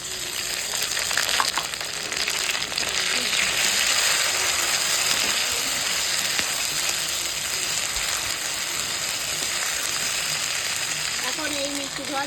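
Steady broadband sizzling of vegetables frying in a pan with spice tempering as ginger paste is added, continuous and fairly loud throughout, with occasional scraping clicks of stirring.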